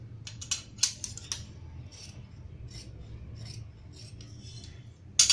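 Scissors snip through kurti fabric in a few sharp, close cuts, then go quiet for a stretch before a loud final snip at the end; no one speaks.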